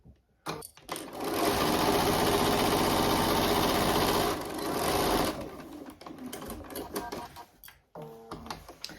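A domestic sewing machine runs a back stitch in fabric, whirring steadily for several seconds, briefly reversing, then stopping, followed by irregular clicks and handling noises of thread and fabric.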